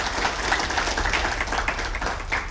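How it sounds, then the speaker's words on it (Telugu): Crowd applause at a public event in Miryalaguda where electric vehicles are handed out to disabled people: dense, even clapping from many people, sustained through the whole short stretch. "ఒక దమ్ము చప్పట్లతోటి సార్కు ధన్యవాదాలు చేయండి"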